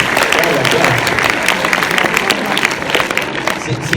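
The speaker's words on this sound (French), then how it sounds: "On peut l'applaudir quand même, il a fait un effort." A crowd applauds loudly and steadily at a film premiere for Nicky Larson, dense clapping filling the room from start to finish with faint voices mixed in.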